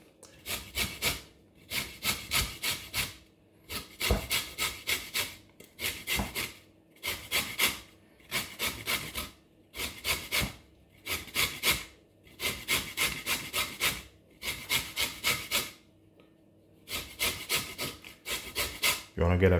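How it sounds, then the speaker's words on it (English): A lemon with thick peel is zested, giving repeated rhythmic raspy scraping strokes against a grater, close and crisp, in bursts of several quick rubs separated by short pauses. "First, I'm going to take the zest off."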